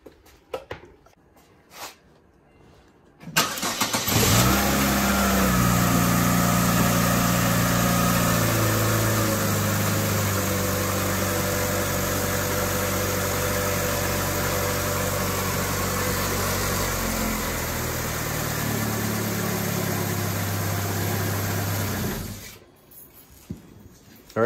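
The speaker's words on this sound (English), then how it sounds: "let's start this car up" A 2004-2008 Chevy Aveo engine cranks and catches after a spark plug and wire replacement, then settles into a steady idle that runs for many seconds before being shut off.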